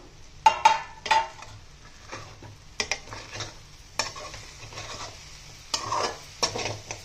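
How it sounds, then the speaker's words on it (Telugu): A spoon scrapes and clatters in a pan of raw banana and coconut curry in several close, irregular strokes over a faint sizzle, with no voices. "చూడండి, కూర ఒకసారి చూసి ప్లేట్ తీసి కలుపుకుందాం."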